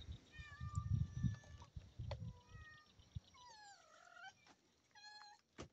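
A cat on a farm meows a few times in soft, drawn-out rising and falling calls. The meows are faint and sound close, over low background rustling.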